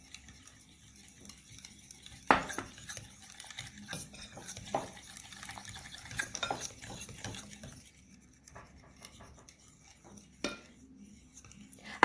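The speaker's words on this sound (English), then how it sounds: "I'm going to use the fork until the mixture it will be liquid" A fork mixes flour into a wet bread dough mixture in a bowl, giving soft, uneven scraping and stirring with a few sharp clicks against the bowl, close and fairly quiet.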